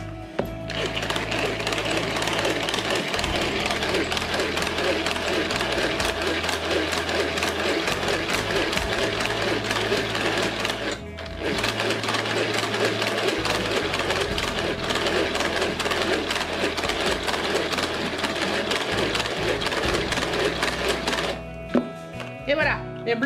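Egg whites with a pinch of salt whisked hard in a kitchen, a steady, dense whirring churn that runs almost nonstop with one brief pause, no talk over it.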